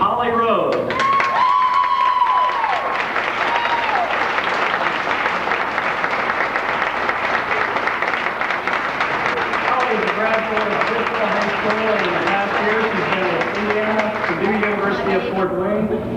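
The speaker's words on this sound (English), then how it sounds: "A big round of applause for our queen right now, Holly Rose." An audience at a lakeside mermaid festival pageant applauds steadily and loudly for the reigning queen, with dense clapping throughout and some cheering mixed in.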